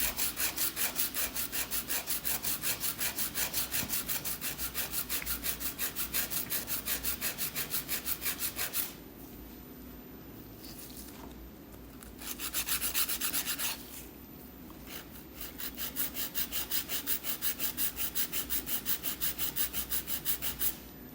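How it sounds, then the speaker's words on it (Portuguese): A hand nail file rasping across a polygel nail: quick, even, rhythmic scraping strokes, soft and close, broken by two short pauses before the filing resumes. "Deixa a mão bem firme e vai fazendo o lixamento, ó, para você ver bem retinho."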